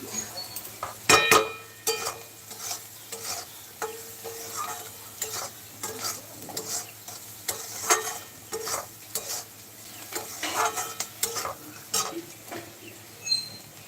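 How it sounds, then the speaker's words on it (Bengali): Pointed gourd fries in oil with a steady sizzle while a utensil stirs and scrapes, with occasional metallic clinks and faint voices in the background. "পটল ভাজা করছো বৌদি না"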